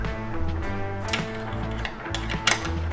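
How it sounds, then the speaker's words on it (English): Ratchet wrench clicking in quick bursts while tightening a bolt and nut on a Greenlane Offroad roof rack fitted to a 6th Gen Toyota 4Runner, close and rhythmic with brief pauses between strokes. "we can put a 1-inch bolt and washer through, followed by a washer and nut on the backside"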